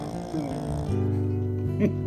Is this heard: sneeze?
no